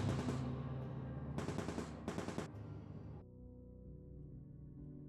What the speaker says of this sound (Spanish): una ametralladora de marca Colt Browning, con su capacidad para realizar 400 disparos por minuto